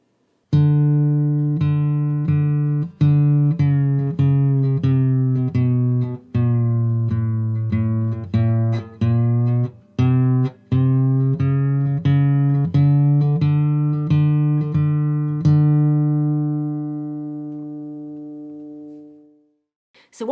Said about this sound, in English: Watch and listen how the tuning peg changes the sound.